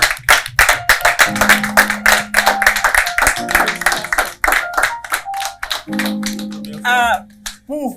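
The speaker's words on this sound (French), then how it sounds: "On applaudit encore." An audience at a live show claps in quick, uneven bursts, loud and close, with voices talking and calling out between and over the clapping.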